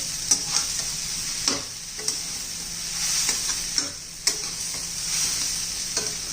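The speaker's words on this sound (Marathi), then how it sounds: "हे पहा छान असं परतून घेणार आहोत आपण." Moong dal upma stirred and sautéed in a pan, with a steady soft sizzle broken by repeated spatula scrapes and taps, close by and with no talking.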